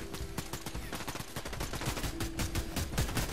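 Rapid bursts of video game gunfire, dense crackling volleys that keep going throughout, fairly quiet and a little distant, with no talk over them.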